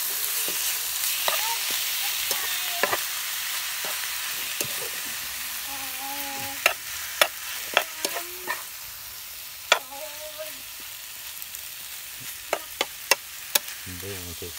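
Fish meat being stir-fried in a pan outdoors: a constant hiss of frying runs throughout, broken by scattered sharp clicks and scrapes of a utensil stirring, near and alone with no talking.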